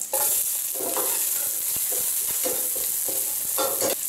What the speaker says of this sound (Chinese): 下入生姜蒜片炒香。